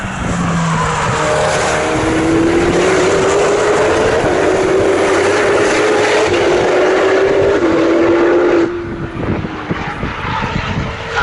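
Ferrari Challenge race cars scream past on the Snetterton circuit, a loud engine note rising and then dropping as they cross the line, ending abruptly with quieter track noise.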